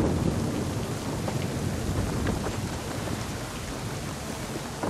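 A heavy storm at sea in Assassin's Creed III pours dense rain with continuous thunder rumbling underneath, a loud, unbroken roar of weather with no voices.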